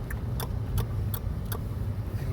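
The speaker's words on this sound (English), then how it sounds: "Popping that gum right behind the microphone." Sharp little pops of chewing gum repeat about every few tenths of a second, close to the microphone, over a steady low rumble of a moving vehicle.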